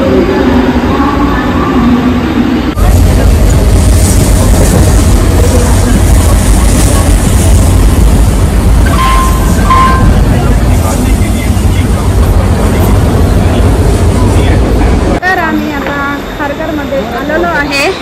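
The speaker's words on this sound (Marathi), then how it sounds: "पनवेलची ट्रेन आहे ती." A Panvel-bound local train gives a loud, broad rumble that rolls on for about twelve seconds before cutting off, with voices heard around it.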